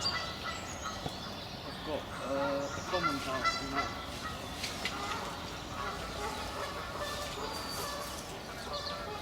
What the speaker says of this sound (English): You can hear the Canada geese there in the background.